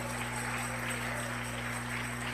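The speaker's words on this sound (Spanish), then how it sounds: "Dele aplauso de gloria al Señor." Church congregation clapping during a Spanish-language worship service, a dense, continuous patter of many hands at moderate distance over a steady electrical hum.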